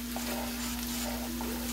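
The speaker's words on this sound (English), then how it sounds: "Got that simmer going." Food simmers on a stove in a pot, a steady soft bubbling and sizzling hiss with a constant low hum beneath and no other sounds.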